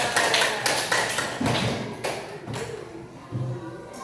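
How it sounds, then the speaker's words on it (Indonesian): A group of children in a classroom clap in uneven bursts, the claps fairly close and moderately loud, trailing off toward the end. "Tepuk tangan untuk teman kalian."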